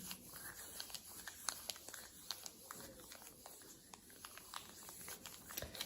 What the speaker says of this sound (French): frotter le papier